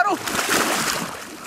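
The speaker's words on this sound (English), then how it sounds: "my cameraman, EUGENE, I begin to enter my makeshift raft" Water splashes and sloshes as a person climbs onto a makeshift raft, a short close churning burst that fades out without talking.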